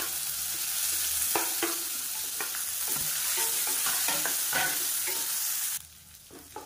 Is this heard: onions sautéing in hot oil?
yes